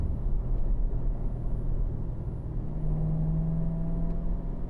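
A Corvette rides over track curbing, giving a low rumbling vibration under steady engine and road noise. A faint rising tone runs partway through, with no voices.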